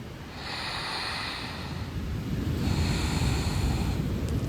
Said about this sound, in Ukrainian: Вгору вдих, до чола видих